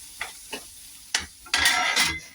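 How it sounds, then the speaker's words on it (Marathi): Masala spices sautéing in oil in a pan for a Maharashtrian potato curry: a few short scraping stirs, then a louder, brighter burst of sizzling near the end, up close with no talk. "आता आपल्याला हे मसाला चांगला परतून घ्यायचा आहे."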